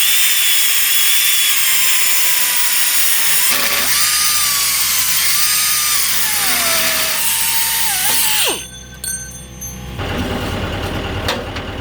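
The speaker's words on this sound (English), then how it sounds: "this is my mini belt sander, and it's going to make quick work of getting through that rebar" A mini belt sander cutting through steel rebar outdoors gives a loud, steady high-pitched grinding whine that sags and rises as it bites, then cuts off abruptly before a rougher motor rattle resumes.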